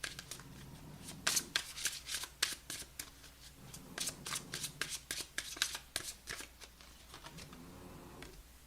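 Tarot cards being shuffled by hand, a quiet close run of crisp riffling and flicking bursts in an irregular rhythm with no talk.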